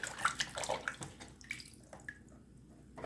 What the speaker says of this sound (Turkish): Şu şekilde banyosunu yaptırıyoruz yaprağımızın. Üzerinde toz toprak varsa gidiyor.